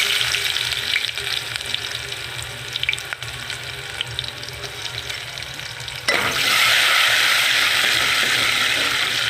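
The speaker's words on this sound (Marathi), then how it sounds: "आता कांदा टाकू" Chopped onion frying in a pan as the base for Maharashtrian dal amti, a steady crackling sizzle heard up close with no talking, which swells louder and brighter about two-thirds of the way through as more onion hits the oil.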